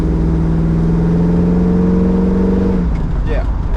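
Engine of a 1973 Ford Mustang Mach 1 with a 351 Cleveland V8 drones loudly and steadily while driving, then drops off near the end as it shifts gears, with faint interior noise following.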